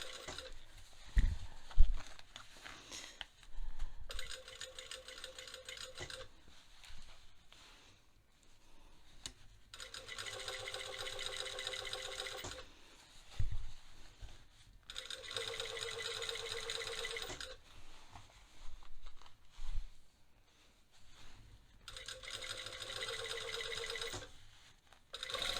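A sewing machine stitches bias tape onto a waistband facing in three steady bursts of rapid whirring, separated by quieter pauses with soft rustling of fabric handling.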